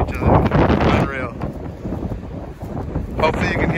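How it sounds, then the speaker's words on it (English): Strong wind buffets the microphone in loud, rumbling gusts outdoors while a person talks over it while elk shed hunting. "It's super windy."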